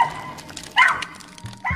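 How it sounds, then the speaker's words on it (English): Dogs giving a few short, excited yips and barks around a parked car, spaced out in quick bursts with quiet gaps between them, fairly close by and with no talking. "Their tails wagged and they barked happily while checking out the car with curiosity."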